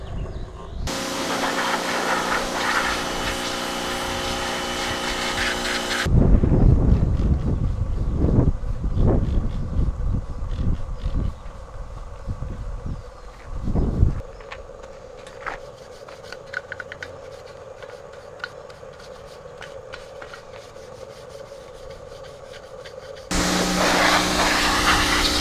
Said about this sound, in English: I'm gonna hit this with the pressure washer and get scrubbing